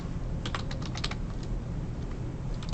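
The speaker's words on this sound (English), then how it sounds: "So we can type in height," Keys tapped on a computer keyboard while entering an axis title in a graphing program, a short quick burst of close clicks followed by a few scattered keystrokes over a steady background hum.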